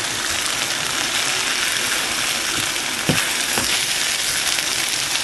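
A potato omelette fries in a pan with a steady, close, crackling sizzle throughout, broken by a couple of brief knocks midway.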